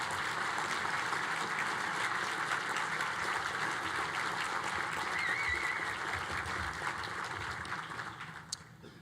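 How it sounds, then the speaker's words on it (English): Audience applause at an evening awards and performance event, a dense, even wash of clapping from a large crowd that holds steady and then thins near the end. "Please join me in giving these individuals and groups a round of applause."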